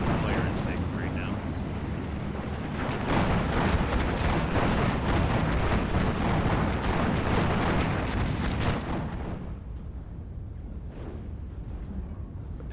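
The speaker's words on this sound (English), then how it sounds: "The Panzerwerfer fire takes out one of the artillery pieces" Panzerwerfer rocket artillery fire and explosions in the video game Steel Division 2, a dense, continuous roar of booms and blasts through a forest battle that stays loud before easing somewhat near the end.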